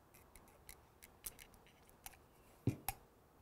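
Hand shears being sharpened: a series of faint, sparse metallic scrapes and clicks at irregular intervals, with two sharper, louder strokes near the end in an otherwise quiet setting.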